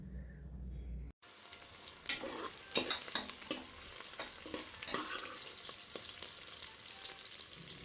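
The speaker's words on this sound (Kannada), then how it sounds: "ಆನಿಯನ್ನು ಸ್ವಲ್ಪ ಸಾಲ್ಟ್ ಹಾಕಿ ಫ್ರೈ ಮಾಡ್ಕೊಳ್ಳೋದು ಸ್ವಲ್ಪ ಗೋಲ್ಡನ್ ಬ್ರೌನ್ ಬರೋ ತನಕ ಈ ಥರ ಫ್ರೈ ಮಾಡ್ಕೊಳ್ಳಿ" Onions fry with salt in a pan, a steady close sizzle punctuated by repeated scraping and tapping stir strokes after a brief cut.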